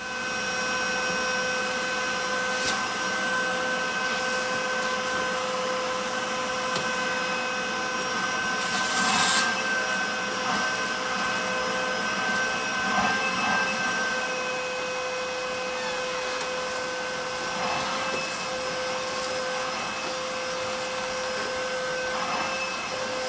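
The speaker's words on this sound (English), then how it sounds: "we're gonna have to vacuum it out." A vacuum cleaner runs continuously with a steady, whining motor hum, clearing leaves from a 1974 Chevrolet Blazer, occasional brief louder sucking bursts as it catches debris, no voices.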